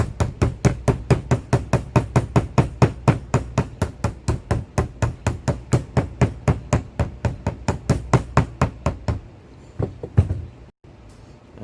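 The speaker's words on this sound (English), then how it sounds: "I know I probably should be using a soft hammer" Steady hammer taps seat a part into a 2006 Honda Civic Si limited-slip transmission differential, about four sharp metallic strikes per second for nine seconds before stopping, close and loud in a quiet garage.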